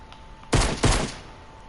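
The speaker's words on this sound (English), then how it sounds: "It sounds just like a pistol." Two sharp, loud pistol shots in a video game, close together and about a third of a second apart, each with a short ringing tail, over a faint hum with no talk.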